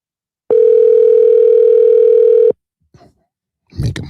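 A telephone call ringing out while waiting for someone to pick up, heard as a single steady tone lasting about two seconds, loud and clear, followed by brief faint noises and a short burst of sound at the end.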